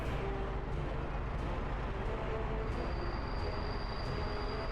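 Trains rumble along rails in the Workers & Resources: Soviet Republic city-building game. A steady low roar of rolling wheels carries throughout, and a thin metallic squeal rises near the end, with no talk over it.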